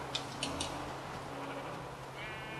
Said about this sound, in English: It is a sheep.